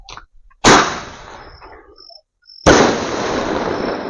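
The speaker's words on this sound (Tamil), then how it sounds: "ஸோ அடுத்து இந்த சின்ன ஸ்கை ஷாட் எப்படி வெடிக்குதுன்னு வச்சு பார்க்கலாம்." A small sky shot firecracker, from a Diwali crackers gift box, bursts with two sharp loud bangs about two seconds apart, each followed by a fizzing crackle and hiss outdoors.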